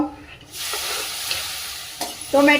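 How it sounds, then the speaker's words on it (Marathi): Onion and tomato sautéing in a pan for dal tadka, a steady close sizzle with stirring scrapes, including a sharp stroke near the end, and a brief voice at the very end. "कांदा व्यवस्थित परतून घ्यायचा आहे"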